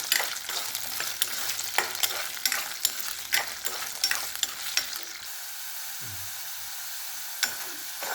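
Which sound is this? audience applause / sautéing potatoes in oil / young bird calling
sautéing potatoes in oil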